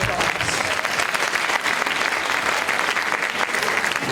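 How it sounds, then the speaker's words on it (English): An audience at a sorority live event claps in sustained applause, dense and even throughout with no break. "Let's give all of these ladies and sorors a round of applause."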